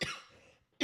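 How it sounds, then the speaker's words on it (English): A single harsh cough from a person with flu, then a quiet pause, and the start of another cough at the end. "Sorry for the coughing."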